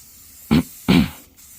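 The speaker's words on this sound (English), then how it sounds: "I'll start spraying these ones so you guys can kind of see what I'm doing" Two loud, close bursts of aerosol spray as clear coat and paint go onto car wheels during an at-home refinish, each a short hissing blast, the second a bit longer.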